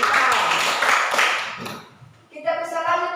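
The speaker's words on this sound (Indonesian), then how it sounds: "kita berikan tepuk tangan." Students clapping together in a classroom during a lesson, a dense burst of applause that tapers off after about two seconds, followed by a voice speaking.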